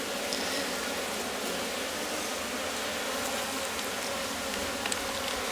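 Honeybees buzz around an open hive in a dense, steady hum that fills the air, many insects droning at once close by.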